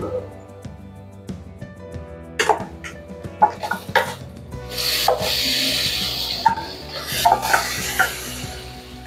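A spoon scrapes and stirs broiler chicken pieces with skin in a cooking pot for aloo chicken, making a busy close clatter and wet sizzle that grows denser and steadier partway through.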